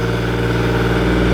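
A Digger King T40 mini digger's small diesel engine runs steadily at raised revs, a smooth, even hum without any talking.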